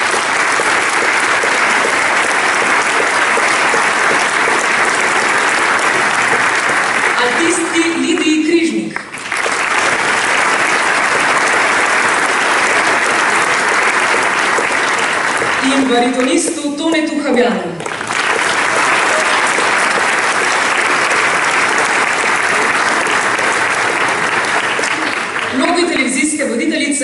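Sustained audience applause at a premiere stage performance closing, dense clapping from a large crowd that keeps going while an announcer's voice cuts in at intervals over it.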